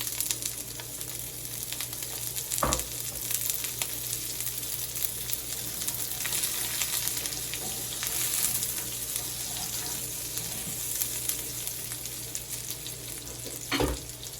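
Green onion sizzles in a pan for lobster mac and cheese, a continuous bright frying hiss with two sharp clanks of a utensil against the pan, close and without talk.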